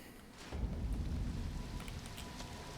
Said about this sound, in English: Is there any way I can convince you to not have it be raining?